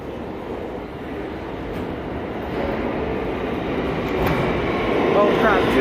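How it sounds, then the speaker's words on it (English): A Manhattan-bound A local New York subway train makes a broad, steady rumble that slowly grows louder, with muffled voices in the background. "Manhattan-bound A local train."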